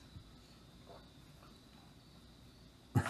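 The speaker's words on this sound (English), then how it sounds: "I hear crickets outside." Faint steady cricket chirping outside at night, a thin continuous trill in a quiet room, ending with a sudden bump.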